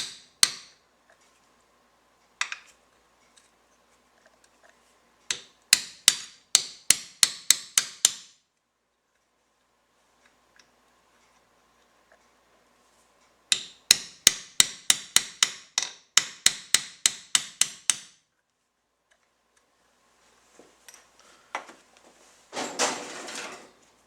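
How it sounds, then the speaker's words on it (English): Metal taps ring out in quick bursts of rapid hammer strikes on a punch driving a pin into a B-2 edger brush holder, several clusters separated by quiet pauses, close and sharp. "use a punch and hammer to lightly tap that pin into"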